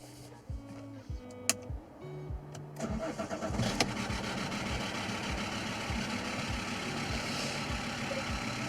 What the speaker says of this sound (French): Et là, on a un deuxième démarrage réussi.